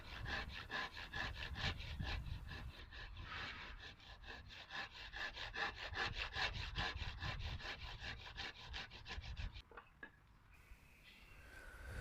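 Western hand saw cutting a wooden dovetail joint by hand, no vise: steady rhythmic back-and-forth rasping strokes, close and fairly loud, then a brief pause and a few softer strokes near the end.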